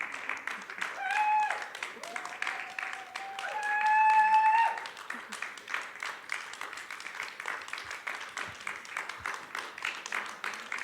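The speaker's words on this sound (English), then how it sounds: "I don't know if you hear the applause" Steady audience clapping at a feminist conference's evening performance, many hands at moderate distance, overlaid twice by rising whistle-like tones that briefly swell above the continuous patter.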